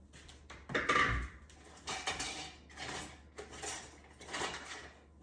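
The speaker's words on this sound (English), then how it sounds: "We're going to give this a good whisk." A whisk beats a dozen eggs with a cup of heavy whipping cream in a bowl, rapid clinking metal-on-bowl strokes in uneven bursts, close and fairly loud.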